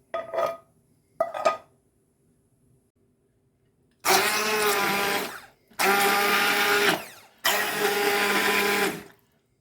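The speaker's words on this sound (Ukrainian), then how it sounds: "і тоді блендером." A kitchen blender whirs in three loud bursts of a few seconds each while blending pâté, after a couple of short clattering sounds and a quiet pause.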